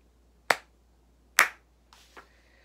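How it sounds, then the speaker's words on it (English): A person claps their hands sharply, two crisp loud claps followed by a fainter third sound, isolated against near silence. "the queen clapped her hands 3 times"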